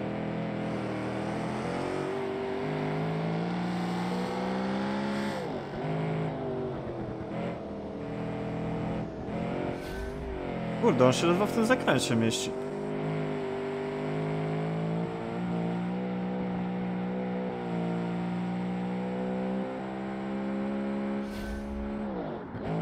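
A car engine from a Ferrari 355-like car in BeamNG drones steadily and revs up and down with gear shifts, with a brief tire squeal midway through a corner, as a voice comments over it.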